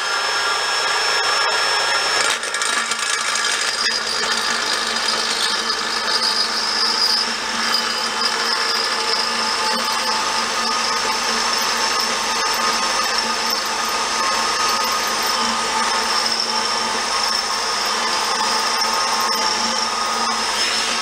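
A drill bores steadily through a welded steel gas tank being built for an engine-assisted bike, giving a continuous loud grinding whine that holds for the whole stretch with no talk.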